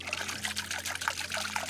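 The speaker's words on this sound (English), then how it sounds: "So here I'm going to filter the water to retain all organisms bigger than 40 microns." Swamp water pours and trickles through a fine 40-micron plankton filter, a steady soft dribbling stream that stays faint and continuous throughout.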